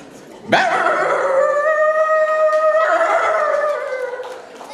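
A person imitates a puppy howling with one sustained, wavering high-pitched howl lasting a few seconds, loud and close.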